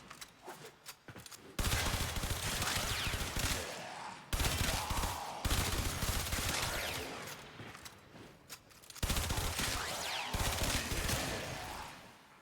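The Harpak weapon in the video game Warframe fires in rapid, sustained bursts, three long loud volleys of crackling shots separated by brief pauses, accompanied by mechanical rattles.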